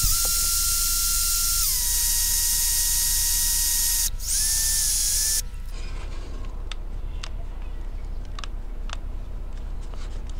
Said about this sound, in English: Look on the back and see what you're drilling into.